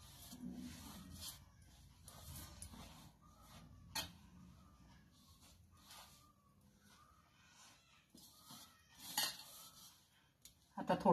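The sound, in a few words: stirring spinach puri dough mixture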